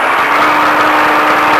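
A Baja truck engine accelerates with a loud, steady, broadband roar that stays constant throughout the short burst.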